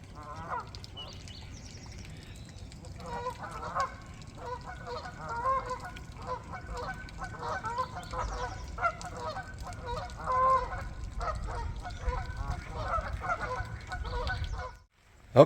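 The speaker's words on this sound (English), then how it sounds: "You can hear the geese barking." Geese honk repeatedly in short, clustered bursts at the Rio Grande Nature Center bosque in Albuquerque, a flock calling at moderate distance over soft outdoor background noise, stopping abruptly at the end.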